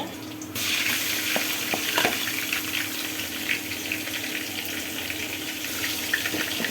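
Rice frying with onions in a pan while being stirred, a dense continuous sizzle with light scraping and occasional clinks, close and steady throughout, with no talk.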